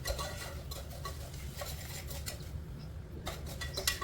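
A spoon works spices and cumin into a Kathiyawadi chevdo mixture in a pot with soft scraping and rustling strokes, a quiet steady rhythm close up with a few faint clinks and no talking.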